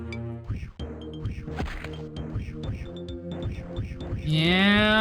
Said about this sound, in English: It's a sheep, man.